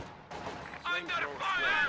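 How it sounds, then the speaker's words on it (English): Mortar fire in a real-time strategy war game, several muffled booms and crackling blasts in quick succession at moderate distance, with a commentator talking over them. "The mortar is just going to continue to hover in this general area."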